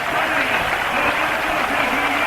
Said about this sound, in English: Tremendous cheer going up